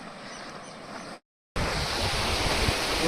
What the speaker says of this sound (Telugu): ఈ వాటర్ అయితే చాలా సౌండ్ చేస్తున్నాయి.